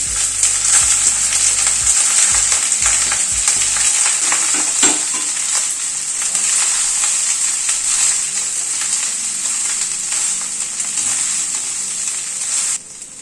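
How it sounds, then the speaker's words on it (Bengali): Cooked rice for chhana pulao, with ginger and green chillies, stir-frying in a pan: a loud continuous sizzle with a few scraping stirs early on, steady throughout. "এবার এই ভাতটা অ্যাড করে দিচ্ছি।"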